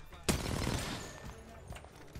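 Rapid automatic gunfire in Apex Legends, a loud burst of overlapping shots erupting suddenly and then trailing into scattered, fainter reports while a player talks over the action.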